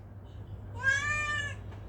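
A pet cat gives a single drawn-out, rising-and-falling meow lasting under a second, close by over a low steady hum.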